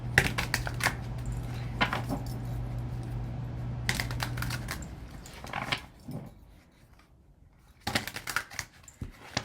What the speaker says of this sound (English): give these a ruffle shuffle